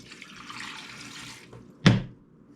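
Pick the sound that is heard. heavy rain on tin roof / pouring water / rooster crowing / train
pouring water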